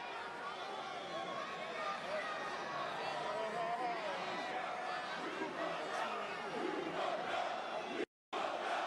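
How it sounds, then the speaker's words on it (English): A wrestling arena crowd at a WWE SmackDown show chants and roars in a dense, sustained wall of noise, with voices talking over it. It ends with a brief dropout to silence. "Kind of love the crowd chanting that."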